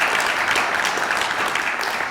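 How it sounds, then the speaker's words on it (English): Steady crowd applause at an award ceremony and roundtable event, dense and continuous clapping from a sizable audience throughout, with faint voices mixed underneath. "We owe a big round of applause to Bruce Roeder for bringing us home"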